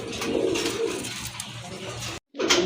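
Rasgolla pigeons cooing close by in a soft, continuous throaty rumble, with a brief gap before the calls resume.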